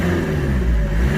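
A 1994 Toyota Townace 4x4 van with a 2.2 liter turbo diesel engine revs briefly, a loud, close, rising mechanical roar with a steady whir.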